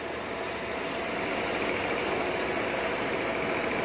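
A car engine runs steadily at idle just after being started, following a check-engine reset, producing an even, continuous mid-range hum with a slight rough vibration throughout, fairly close and with no talking.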